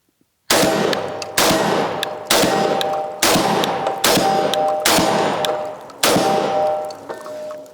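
Beretta A300 and 1301 semi-automatic shotguns are fired outdoors in a string of about seven loud, sharp blasts, each roughly a second apart with a ringing metallic tail.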